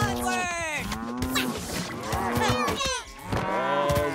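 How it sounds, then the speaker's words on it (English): Cows mooing in the South Park video game, a string of loud overlapping bovine moos following one after another, close and continuous over game sounds. "When in doubt, whip out the cow"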